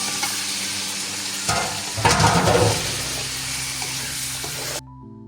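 Chicken strips, about half a kilo of boneless pieces cut lengthwise for chicken jalfrezi, frying in a pan with a steady loud sizzle, swelling as they are stirred midway and cutting off abruptly near the end.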